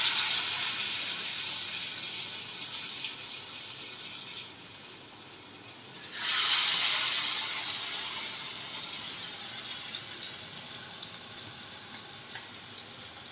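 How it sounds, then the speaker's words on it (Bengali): Batter-dipped pumpkin slices fry in hot oil, like beguni, with a steady bright sizzling hiss that briefly softens and then swells loud again as more pieces go in. "এরপরে কুমড়োতে ডুবিয়ে কুমড়ো ছেড়ে দেওয়া হচ্ছে তেলে"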